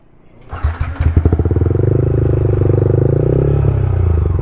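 A motorcycle ridden by a new rider: the engine catches with a few sputtering pulses, then settles into a steady, loud, close drone that holds to the end.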